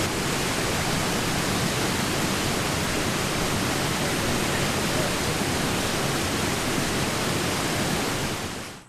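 Clear river water rushing continuously on a hike to a waterfall at Dingga, Indonesia, a loud, steady, broadband flow close by with no break.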